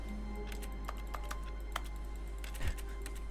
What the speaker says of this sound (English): Why does it sound like I'm smashing keyboards?